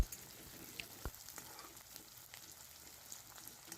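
Onions fry gently in a pan for a home-style tarka, a faint, steady crackle with scattered small pops and light ticks, close but quiet and without voices.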